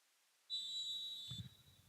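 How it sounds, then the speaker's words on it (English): A referee's whistle at a men's college soccer match blows one sustained shrill blast, fairly faint and distant, followed by a low thump and rumble of field noise. "There's the whistle."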